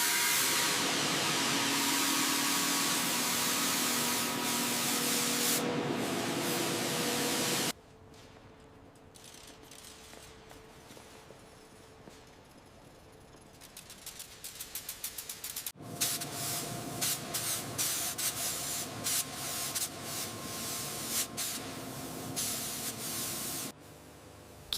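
Paint sprays onto the cab of a heavy truck as a loud steady hiss that runs in long bursts, with a quieter gap between them and some rattly, uneven spraying later on.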